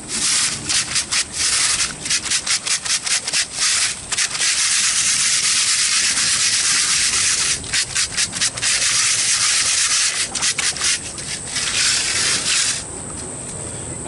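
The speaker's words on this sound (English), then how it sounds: "I'm actually pushing it through using the sieve as a kind of grater to just break up the clay a bit more" Clay-laden sapphire wash being rubbed by hand through a gem sieve, a close, loud, gritty scraping that comes in rapid repeated strokes, with a few pauses between bursts.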